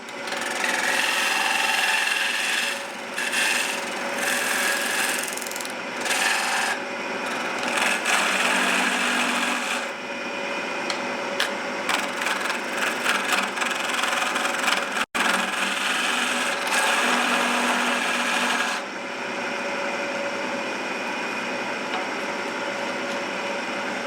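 Steady, close wood lathe turning a salt pig, a continuous broadband whir and scraping rasp of the tool cutting the spinning wood that runs the whole time with small shifts in pitch and texture, no talking.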